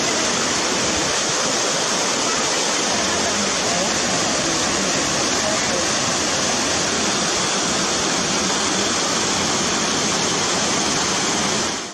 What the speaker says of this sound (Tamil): தொடர் மழை காரணமாக கொடைக்கானல் மலைப்பகுதியில் உள்ள அருவிகளில் நீர்வரத்து அதிகரித்துள்ளது